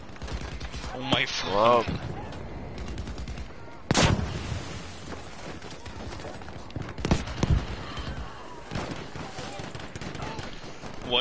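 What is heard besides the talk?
sniper gunfire in video game Battlefield V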